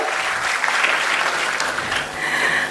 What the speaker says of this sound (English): I request the audience to applaud